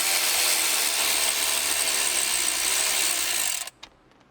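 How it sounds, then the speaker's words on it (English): A ratchet wrench with a 9/32 socket turns in reverse, giving a steady, dense whirring buzz for about three and a half seconds, then stopping abruptly, followed by a couple of small clicks. "So this is where you grab your 9/32 socket and wrench. Put it in reverse."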